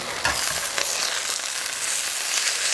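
A smash burger patty for green chile cheese smash burger tacos sizzles loudly and steadily on a hot griddle just after being flipped, a dense continuous crackle close up with no voices.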